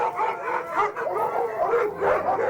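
Sled dogs at a musher's Alaskan kennel near Mount McKinley, about thirty animals, give a chorus of overlapping barks and high yips, several dogs calling at once at moderate distance without any talking.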